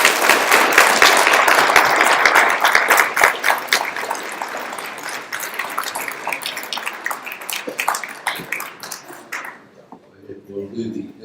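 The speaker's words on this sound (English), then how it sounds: "Let's give them a round of applause." Audience applause at a 2018 candidate forum in Lamesa, Texas: dense, sustained clapping from a sizable crowd that stays loud for several seconds, then thins out and fades near the end.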